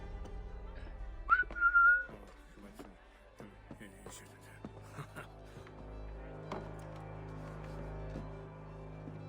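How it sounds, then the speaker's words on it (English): A character in Assassin's Creed 3 Remastered gives a short, clear two-tone whistle near the start, loud and close, followed by quieter game ambience and scattered clicks, with no talk. "What was that whistling thing I just did?"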